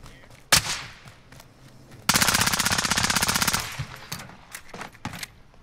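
Rapid machine gun fire in a Warzone Resurgence quads battle royale match, a loud sustained burst of about a second and a half preceded and followed by scattered single gunshots.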